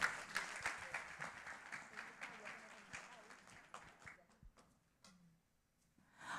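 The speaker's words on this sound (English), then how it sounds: "Let's give her a round of applause." Scattered audience applause at an executive hospitality forum, sparse individual claps at moderate distance that thin out into near silence before picking up again briefly at the end.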